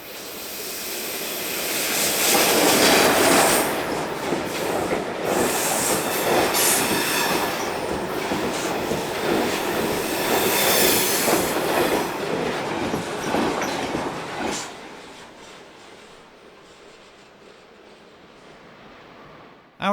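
Freight train rolling past at Olten, Switzerland, loud and close with rumbling wagons, rhythmic wheel clatter and high squealing and hissing, fading off over the last few seconds.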